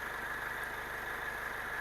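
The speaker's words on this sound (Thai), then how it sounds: "เครื่องยนต์เดินนิ่งๆนะครับ" A 2005 Mercedes-Benz W211 E220 CDI diesel engine idles steadily with the hood open, giving a smooth, constant hum and a faint rhythmic low pulse, heard up close with no talking.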